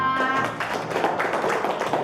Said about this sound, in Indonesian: Mari kita berikan tepuk tangan untuk kelompok 2